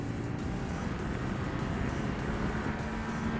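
A Yamaha R7 sport bike pulls hard in second gear on a track's back straight, its engine a steady, dense roar heard from onboard with wind rush mixed in.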